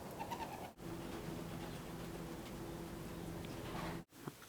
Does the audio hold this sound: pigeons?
yes